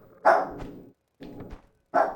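Dog barking in the video game Polyball, three loud separate barks spaced about a second apart, close and clear against near silence.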